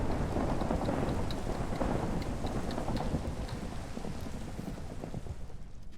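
Minecraft thunderstorm: steady rain patters continuously while low thunder rumbles roll underneath, gradually easing toward the end, with no talking.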